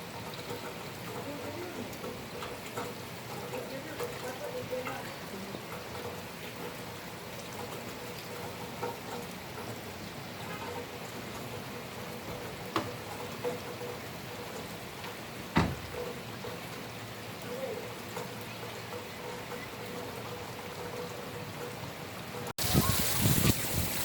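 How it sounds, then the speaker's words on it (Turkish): Steady rain falls in Inebolu on a mixed sunny and rainy day, a constant soft wash of drops on surfaces close by, with a few brief knocks and a louder burst of patter at the end. "Yağmur başladı."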